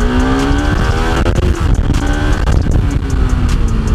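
A motorcycle engine drones loud and close while riding along an empty road, its steady pitch rising and shifting through gears over heavy wind rumble, with no talk.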